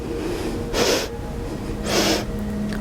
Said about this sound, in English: Breathing in, you can sniff.